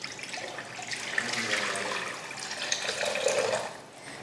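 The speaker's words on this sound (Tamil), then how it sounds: "இதில் நம்ம கலந்து வச்ச இளநீர் தண்ணியாக சேர்த்துடலாம்." Coconut water mixture poured into a pan with a little ghee for a sweet recipe, giving a steady splashing liquid pour and sizzle that runs the whole way at close range, with no talking.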